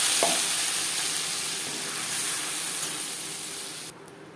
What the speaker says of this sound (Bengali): 5 ফোড়ন তেজপাতা ভেজে নেওয়ার পর দিয়ে দেবো আদা, কাঁচা লঙ্কা ও টমেটোর পেস্ট